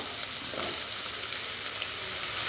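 Tomatoes sizzle and sauté in hot oil in a pan while chickpea kurma is cooked, a soft steady crackling hiss with occasional stirring sounds, fairly quiet and without talk.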